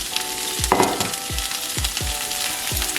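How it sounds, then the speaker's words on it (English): Garlic and carrots browning in a hot pan make a continuous close sizzle, with a string of regular low thumps from stirring or tossing the pan. "we're gonna start by throwing our garlic in. And we're gonna throw our carrots in."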